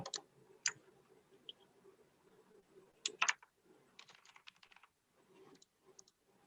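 Quiet, close computer keyboard typing in irregular bursts of clicks with short pauses between them, during data entry into a library book-borrowing information system, with no talking.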